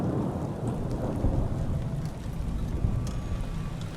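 Heavy rain in Fallout: New Vegas pours steadily with a deep rumbling undertone, continuous and even, with a few faint higher clicks and no speech.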